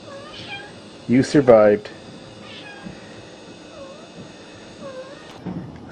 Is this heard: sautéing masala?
no